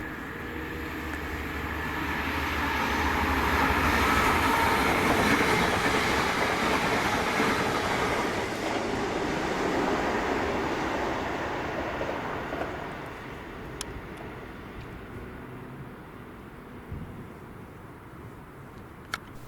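A ScotRail Class 380 passenger train, unit 380006 on the Glasgow Central to Paisley Gilmour Street service, rolls past with a broad rumbling roar that swells to a peak and slowly fades, a few faint rail clicks near the end.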